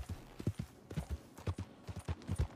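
Horse hooves clip-clop at a steady walking rhythm in the video game Red Dead Redemption, each hoofbeat close and distinct, with no talking over them.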